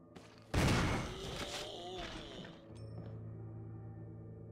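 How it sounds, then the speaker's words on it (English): Gunfire in the Resident Evil HD Remaster survival horror game, a loud burst of shots that rings out briefly and fades into a low ambient hum, with a voice talking over it. "You gotta shoot his head off."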